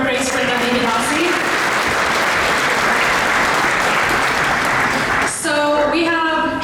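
Sustained audience applause at a Sunday feast lecture at a Toronto temple gathering, a dense steady wash of clapping that fills the room for several seconds before voices and music-like tones rise at the end.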